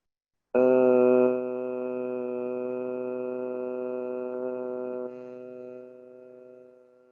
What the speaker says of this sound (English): it's going to sound like this. And it's a very deep sound.